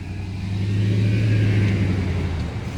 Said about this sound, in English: Turn your noisy ass car down.